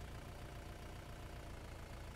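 A level 3 tractor in the Roblox farming game idles with a steady, continuous low engine drone, alone with no talk.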